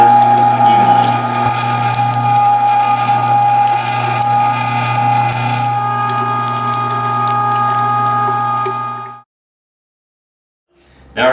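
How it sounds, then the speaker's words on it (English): Electric meat grinder running steadily as it grinds venison together with pork and pork fat, a loud continuous motor whine with mechanical churning that cuts off abruptly near the end. "I like to grind up a few pieces of venison with a few pieces of pork and pork fat"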